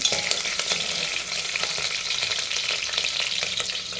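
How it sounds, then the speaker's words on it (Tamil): Green chilies fry in hot oil for coconut milk rice, giving a bright, crackling sizzle with frequent small pops and stirring scrapes close to the pan. "இதை எண்ணெயில் போட்டுக்கலாம் எண்ணெயில் ஒரு நிமிஷம் வடிக்கலாம்"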